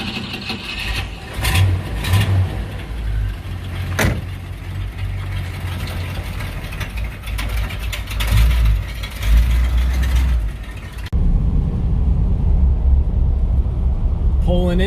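A 1959 Cadillac fitted with intelligent spark plugs starts and runs, its engine a steady low rumble with revving swells, heard up close inside the car for most of the stretch before the tone shifts near the end.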